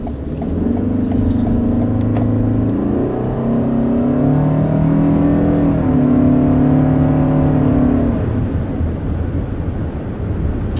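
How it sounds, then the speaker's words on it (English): A minivan engine drones steadily from inside the cabin, its pitch climbing in stages as the van accelerates to 60 mph, with road rumble underneath. "that was an acceleration up to 60 miles an hour"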